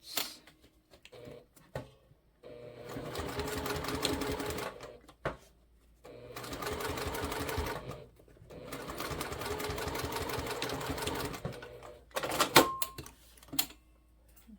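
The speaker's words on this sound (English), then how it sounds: "we're gonna sew this at 3/8" A sewing machine stitches a bag seam at 3/8 inch in several close bursts of rapid mechanical chatter, separated by pauses with a few handling clicks.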